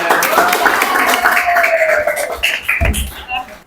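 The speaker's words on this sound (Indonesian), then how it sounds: "tepuk tangan semuanya" A classroom of students claps together during an Islamic religious education lesson, a dense patter of hands that overlaps with voices and fades out toward the end.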